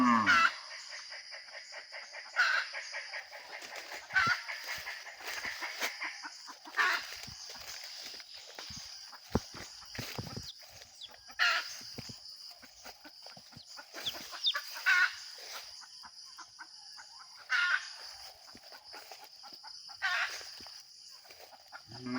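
A talisayin jungle fowl hen, a wild red junglefowl, clucks softly and repeatedly with her single chick nearby outdoors, the calls coming in short bursts amid rustling and faint footsteps, with no talk.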